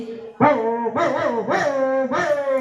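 A voice imitates a dog at a school mimicry competition, giving four drawn-out, whiny barking yelps in quick succession, loud and close.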